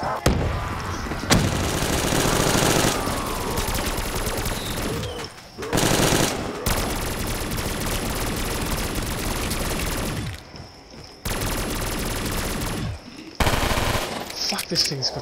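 Machine gun bursts from Call of Duty Black Ops 3 on a town map, loud sustained automatic fire in several long strings broken by short pauses, with no talking over it.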